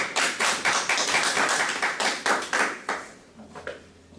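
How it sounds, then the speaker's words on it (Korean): Audience at an academic presentation gives a brief round of rhythmic hand claps, fairly near and moderately loud, thinning out and fading near the end. "박수부터 좀 해주시고요"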